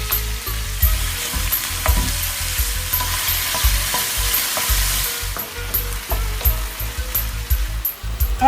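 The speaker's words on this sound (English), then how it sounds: "wok over high heat, add canola oil. Saute chopped garlic. Add sliced pork, cook until no pink meat remains." Sliced pork stir-frying in a wok over high heat with canola oil and chopped garlic, a loud constant sizzle and crackle with repeated clanks of tossing and stirring throughout.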